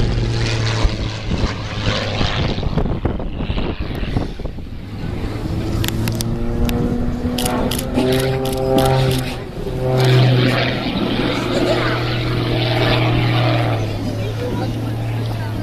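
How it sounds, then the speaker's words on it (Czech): A propeller aircraft holds a near-stationary hover at a 2011 air show. Its engine gives a loud, steady, harmonic drone whose pitch wavers and shifts partway through. "A takhle to vypadá, když stojí letadlo."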